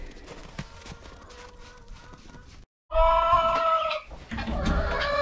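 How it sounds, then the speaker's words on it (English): Chickens cluck and squawk nearby in a busy barn during hard winter weather, with scattered thumps and rustling; the clucking grows louder after a brief gap. "So here is where we are keeping the chickens at."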